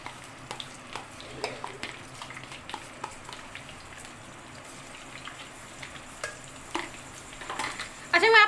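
Ginger garlic paste frying in half a cup of oil for chicken karahi: a steady soft sizzle with intermittent stirring clicks and scrapes of a spoon against the pan, close and moderate in level.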